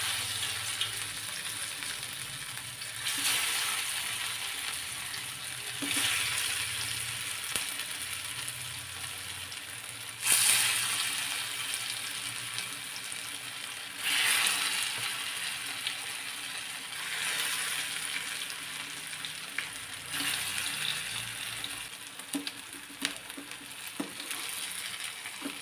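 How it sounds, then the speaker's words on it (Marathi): Vadi frying in a little oil over a medium flame, with a steady hiss and sizzle and occasional scraping stirs and rattles throughout, no voices. "कमीत कमी तेलाचा वापर करून वड्या तळून घ्यायचेत किंवा परतून घेतल्या तरी चालेल"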